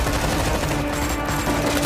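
Loud, continuous gunfire from a dubbed action film, with rapid bursts and shots running densely through the whole moment, dominating without a break.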